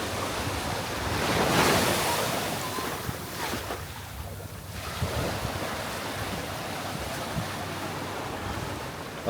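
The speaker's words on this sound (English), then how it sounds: "you can see right here, the water comes right up to the rocks." Ocean waves wash up against rocks along a shoreline, a steady loud roar of surf with swelling and receding surges, heavy wind buffeting the microphone, and no talk.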